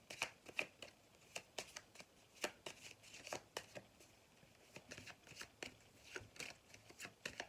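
Tarot cards being shuffled to draw another card in a quiet reading: a steady run of crisp, close riffling snaps and soft slides, fairly faint, with no talking.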